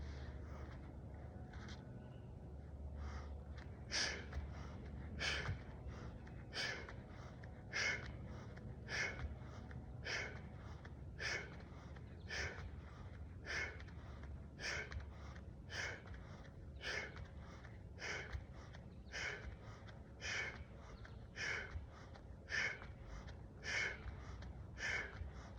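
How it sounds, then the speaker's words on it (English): Rhythmic yoga breathing, in through the nose and out through the mouth, with about twenty-five sharp, airy breaths repeating at a quick, even pace, close and fairly faint. "you're breathing in through the nose, out through the mouth"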